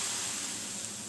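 Ghee poured into cooking gram flour syrup for Mysore pak, a dense, even hiss of sizzling close up, steady for a moment with no talking.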